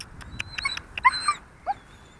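A dog whimpering and whining close by, a few high, thin cries with short yips in between.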